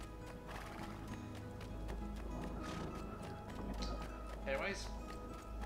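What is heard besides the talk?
horse galloping and whinnying in video game Assassin's Creed 2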